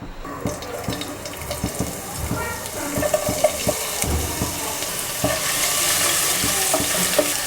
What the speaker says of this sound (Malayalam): നമ്മുടെ എണ്ണ ചൂടാവുമ്പോൾ നമ്മൾ അതിലേക്ക് ചോപ്പ് ചെയ്ത് വെച്ചിട്ടുള്ള ജിഞ്ചറും ഗാർലിക്കും ആഡ് ചെയ്ത് കൊടുക്കുക